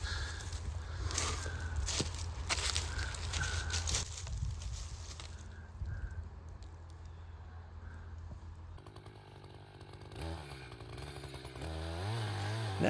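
A chainsaw cuts into a standing tree being felled, cutting toward the hinge, with a rough, buzzing engine drone that rises and falls at a moderate distance, joined by footsteps and handling noise later.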